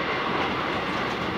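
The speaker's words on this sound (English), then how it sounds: "And we're on the train." An SNCFT night train runs between Sousse and Tozeur in Tunisia, heard from on board as a steady rolling rumble with wheel clatter, continuous and fairly loud.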